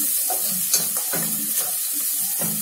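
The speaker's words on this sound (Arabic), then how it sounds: "هقلب البصله طبعا لحد ما تتحمر وتاخد لون معايا" Onion fries in hot oil in a pan, a constant sizzle broken by repeated stirring scrapes and soft clacks at an unhurried rhythm.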